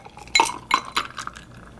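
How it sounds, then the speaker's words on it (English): Cocktail poured into a highball glass, heard as a few close glassy clinks and knocks of ice and glassware with a faint liquid trickle in between. "Let's pour it into our highball glass."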